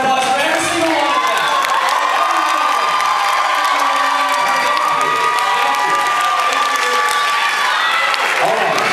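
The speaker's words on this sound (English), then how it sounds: "Give them a round of applause for every single one of" An audience at a Mr. Patriot pageant claps, cheers and whoops for the top five candidates, a loud, dense roar of shouting and applause with high excited voices carrying across the whole stretch.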